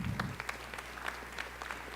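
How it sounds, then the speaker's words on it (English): Applause from a graduation commencement crowd, a steady dense patter of many hands clapping continuously, moderately loud and unbroken for the whole stretch. "please give one final round of applause for all of these people who have supported you"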